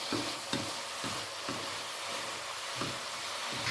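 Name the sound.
stirring spice powder into frying food in a pan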